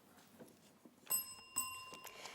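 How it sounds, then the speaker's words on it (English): A quiz bell rings twice in close succession at a junior school quiz competition, signalling the end of a section; the bright tones are fairly near and hang on briefly over quiet room noise. "that bell signifies the end of section 1"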